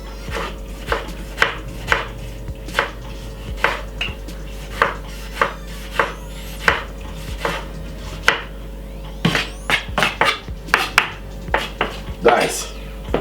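A knife chops through a tomato on a cutting board while preparing Jamaican ackee with Scotch bonnet pepper, giving a steady series of close, sharp thuds that turn faster and denser toward the end.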